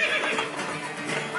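A horse neighs in the video game Assassin's Creed 2, a loud continuous whinny lasting the whole moment with no talk over it.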